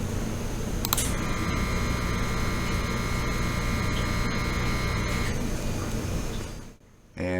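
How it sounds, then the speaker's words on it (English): Air assist compressor on a Neje 3 Max diode laser engraver kicks on after a sharp click, settling into a steady mechanical hum with a tonal whine that runs for several seconds and then stops. "So if you hear the compressor come on, that means that it's going to work."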